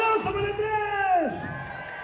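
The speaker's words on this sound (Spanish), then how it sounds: "¡Aplauso para el tres!" An audience at a comedy show in Houston gives a short burst of cheering and shouting for contestant number three, with loud, close voices that soon fade into a lower crowd murmur.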